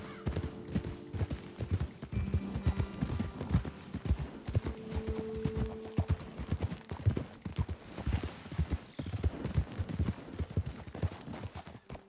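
Horses being ridden in the open-world western game Red Dead Redemption 2 clip-clop steadily and close by, hooves thudding in a continuous uneven rhythm over ambient wind, with faint tonal music hints and no speech.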